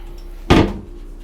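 A medicine cabinet door on a 2026 Targa 46 motor yacht gives a single short knock or thud as it shuts, close and brief against a quiet room hum.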